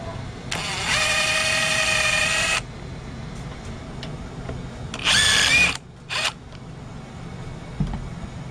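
A power tool, likely an impact driver, spins loose the head bolts on a four-stroke small engine without overhead valves: one long whirring burst, then two shorter bursts, close and loud over a quiet workshop background.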